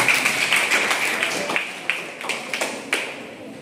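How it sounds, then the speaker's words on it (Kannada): Ninth-grade students in a class quiz clap together for a correct answer: a steady, rhythmic run of sharp, moderately loud claps with no talking over them. "ಸರಿಯಾದ ಉತ್ತರ 10 ಚಪ್ಪಾಳೆ ಹೊಡಿ"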